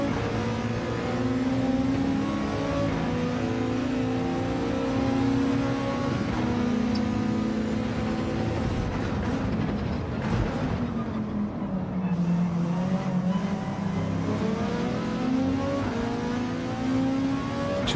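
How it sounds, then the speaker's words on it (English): Gr3 race car in the Gran Turismo video game, its engine roaring loud and steady throughout, with the pitch climbing and dipping as the throttle is stabbed and released. "Let's have two stabs at the throttle there."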